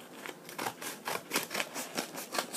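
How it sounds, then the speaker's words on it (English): Scissors cut open a mailed package containing a knife, making about eight quiet, crisp snips in a steady rhythm, heard up close with no talking. "I'm actually using scissors to open it because I don't have a good knife."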